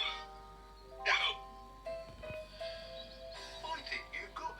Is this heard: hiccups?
yes